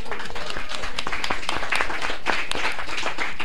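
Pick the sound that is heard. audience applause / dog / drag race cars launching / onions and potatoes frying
audience applause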